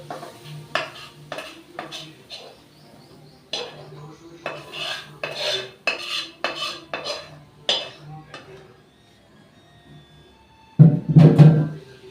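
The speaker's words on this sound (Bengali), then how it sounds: "একটা প্লেট টাইপের থালা নিয়ে নিয়েছি, এর মধ্যে ঢেলে দেবো।" Cooked ridge gourd and potato posto being scraped from a pan onto a plate, a series of close metallic spoon scrapes and knocks in uneven bursts, ending with a louder clatter.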